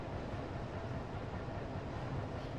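A train engine in the railway game Trainz 22 runs with a steady low rumble, continuous and moderately loud throughout, with no voices.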